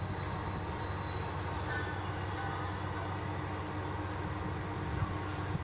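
A Tobu Liberty train, running as a short three-car set, rumbles at Asakusa station as it comes to a stop at a platform, a steady low drone of motors and wheels with faint squeals, fairly loud and without speech.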